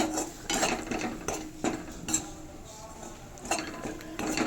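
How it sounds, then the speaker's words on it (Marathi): Fenugreek seeds roasting in a pan for methi ladu, stirred with a utensil that scrapes and clinks against the metal in soft, irregular bursts, fairly faint and close. "आपण आता मेथी भाजून घेऊया."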